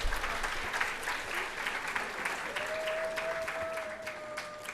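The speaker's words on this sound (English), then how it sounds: "Please give them a big round of applause." Audience applause for students at a school milestone ceremony, a steady, even wash of clapping from a large crowd, with a faint tone running underneath toward the end.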